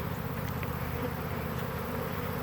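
A swarm of honey bees merging at a box hums in a steady, dense drone close by, continuous and unbroken throughout.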